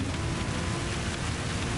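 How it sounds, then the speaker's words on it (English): Torrential rain in a racing video game, a dense, loud, unbroken hiss of downpour with a low rumble underneath, steady throughout and without talking. "This is torrential rain."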